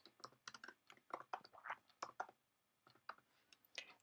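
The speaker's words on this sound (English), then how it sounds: "So I'm going to type German Shepherd," Someone types on a computer keyboard while working in Microsoft Word. Close, quiet key clicks come in quick irregular bursts with a brief pause midway, and no one speaks.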